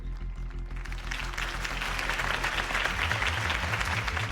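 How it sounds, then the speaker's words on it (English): A crowd claps and cheers steadily in a large space in a Batman video game, with a thumping low musical beat underneath throughout. "If only Mr. Wayne, my campaign's largest backer, could have heard that applause"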